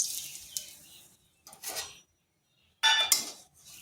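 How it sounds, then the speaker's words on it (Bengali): Semolina stirred in ghee in a kadai, giving soft scraping and rustling strokes in short bursts with a brief pause between, close and fairly quiet. "সুজিটাকে হালকা একটু ভেজে নিচ্ছি"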